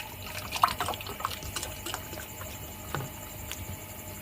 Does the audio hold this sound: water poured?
yes